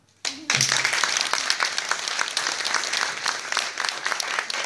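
Audience applause at a Bulgarian community event in Paralimni, Cyprus, starting abruptly after a brief moment and holding steady as dense, continuous clapping from a sizeable crowd for several seconds.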